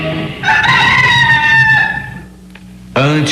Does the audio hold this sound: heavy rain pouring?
no